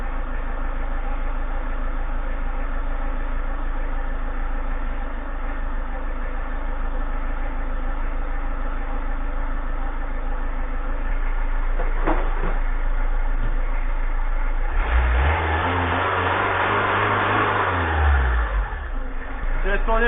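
A Citroën ZX estate car engine idles with a steady low rumble nearby, then revs up once in a rising and falling surge before settling back to idle.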